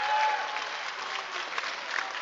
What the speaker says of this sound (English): Crowd's pretty excited.